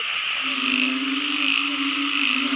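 A dense, continuous chorus of loud frogs, small frogs and bullfrogs croaks close by, with a shrill high trill that drops out early over a steady drone of calls.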